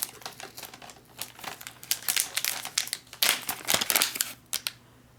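The top of an MRE cappuccino drink powder pouch is torn open, a run of close crinkling, crackling rips and rustles in irregular bursts, louder toward the middle and alone without talk.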